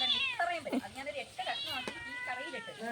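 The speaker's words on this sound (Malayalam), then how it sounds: "പൂച്ച നീ അവിടെ നിന്ന് ഇവിടെ വന്നാ" A house cat meows several times in quick succession, drawn-out and wavering, close but fairly quiet on a rainy day indoors.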